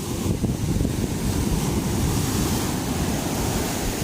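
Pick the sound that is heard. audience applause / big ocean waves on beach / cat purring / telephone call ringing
big ocean waves on beach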